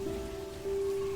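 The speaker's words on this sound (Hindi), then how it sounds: "बाहर हो रही है बारिश" Steady rain falling outside, heard as a continuous wash just past an opened door, even and moderately loud with a faint steady tone running underneath and no voices.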